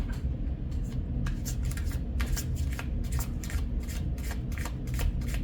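Tarot cards being shuffled by hand, a rapid series of crisp papery riffles and flicks in quick bursts, close and clear over a faint background.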